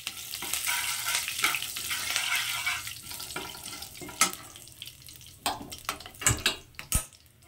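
Mustard seeds and curry leaves go into hot fried dal for curd rice, hissing and sizzling loudly, with sharp pan clatters toward the end.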